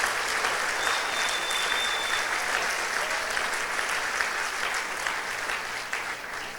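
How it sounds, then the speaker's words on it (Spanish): Church congregation applauding during a sermon, a steady, dense wash of many hands clapping that stays loud and even throughout, with no speech over it. "Dale más fuerte ese aplauso a Jesús."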